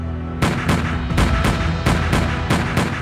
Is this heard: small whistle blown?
no